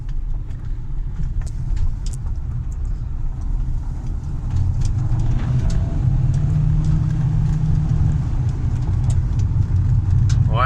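A Renault Kangoo RS on loose ground gives a steady, loud low engine and road rumble from inside the cabin, with a surge of tire and chassis noise as it brakes hard, and no clear voices over it.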